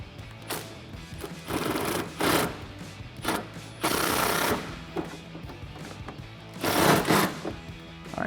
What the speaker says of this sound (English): Tighten it down with your 10 socket.